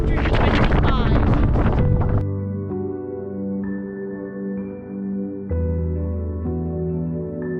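Strong wind buffets the microphone at the summit of Great Crag in the Lake District, a loud broadband roar at first that drops away abruptly, leaving quieter steady tonal hum and gusts.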